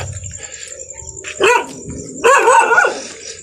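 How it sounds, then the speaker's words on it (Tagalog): Stray dogs bark along a road in two short bursts, a single bark then a quick cluster of yips, nearby over a quiet background. "Marami pong aso dito sa daanan mga ka-ritual."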